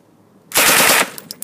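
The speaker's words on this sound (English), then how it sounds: "This goes straight to full auto." A machine gun firing full auto at a Las Vegas gun range, one loud half-second burst of rapid shots, followed by faint clicks and knocks.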